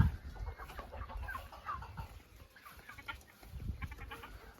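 Soft, low clucking from a bantam Cochin hen, repeated in short irregular bursts, fairly close but quiet, with faint farmyard background.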